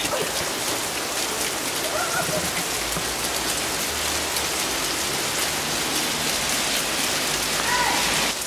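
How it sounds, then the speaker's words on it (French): Steady, heavy rain falls close by in a dense, continuous hiss of drops striking surfaces, loud and unbroken from start to finish, with no voices. "Me voilà pris au piège par la pluie"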